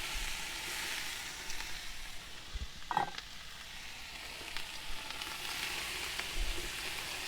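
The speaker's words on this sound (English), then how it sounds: "Give it a bit of a fry around." Rump steak stir fry with tomato and mushroom sizzling steadily in a pan over a camp stove outdoors, a continuous soft frying hiss with one brief clatter of stirring partway through.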